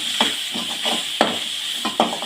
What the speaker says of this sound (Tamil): அதையும் போட்டு நல்லா வதக்கணும்